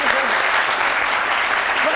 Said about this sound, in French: On va applaudir un peu pour les garçons.